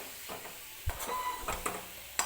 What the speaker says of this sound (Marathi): परत एकदा व्यवस्थित मिक्स करून घ्यायचं आहे आपल्याला